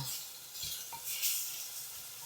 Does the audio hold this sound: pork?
yes